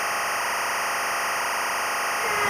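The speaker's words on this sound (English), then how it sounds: "What this will do is send audio timecode out via the TRS connection" Audio timecode signal from a TC1 timecode device, a continuous harsh buzzing data tone that stays steady and loud throughout with no pauses.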